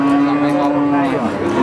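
A Simmental cow moos with a long, low drawn-out call, close by, over a busy cattle market with a steady background of animal noise.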